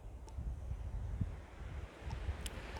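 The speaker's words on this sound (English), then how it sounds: "The wind had dropped down a bit, but it's getting a bit windy again now" Outdoor wind blows as a steady low rumble and buffets the microphone, gusting unevenly throughout with no voices.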